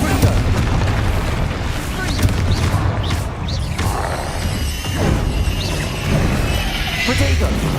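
Confringo fire-spell blasts in Hogwarts Legacy, a busy run of booming explosions and crashes layered with chaotic combat effects, dense and loud throughout with short voiced exclamations mixed in.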